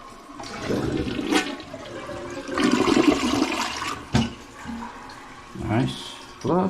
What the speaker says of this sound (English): Nice flush.